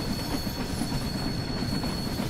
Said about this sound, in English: It really is crazy having to drive a train like this with a steam locomotive.